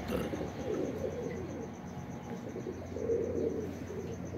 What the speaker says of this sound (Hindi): ये नेवरों वाले कबूतर हैं जी